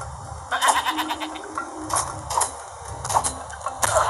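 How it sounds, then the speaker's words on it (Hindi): Mountain goats bleat in a mountain climbing video game, several short, loud cries repeating at irregular intervals over a low rumbling game background. "यहाँ की जो पहाड़ी बकरियाँ होती है ना वो चीख मारती है।"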